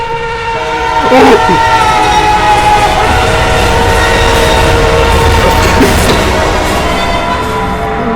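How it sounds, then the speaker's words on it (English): Several loud trains pass close by, with a rumbling roar, clattering wheels and sustained blasts of a train horn. A person exclaims briefly over the din. "There's so many trains."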